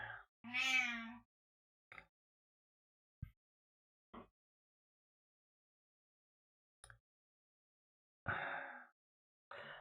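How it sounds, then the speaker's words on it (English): A cat lets out a loud meow up close, followed by a few faint clicks and small sounds, then another breathy cry near the end. "my goodness, Claudia's meowing."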